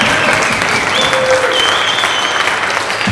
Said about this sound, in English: Just get a final round of applause for all the candidates for president.